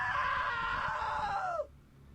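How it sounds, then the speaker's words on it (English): A single drawn-out scream in the video game What Remains of Edith Finch, loud and close, holding for about a second and a half before bending downward and cutting off into quiet. "Now that was a great scream."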